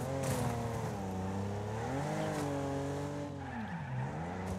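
A car in the racing game Wreckfest brakes hard and its tires skid, with a loud, continuous engine roar that dips and rises as it slows through a corner.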